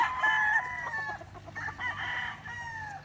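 A Lara Romero Gray straight-comb rooster crows nearby, a drawn-out, fairly loud call, followed by softer clucking and a second shorter crow.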